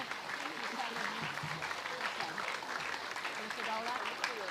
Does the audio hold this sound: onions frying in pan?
no